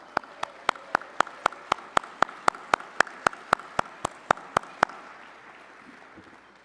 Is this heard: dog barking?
no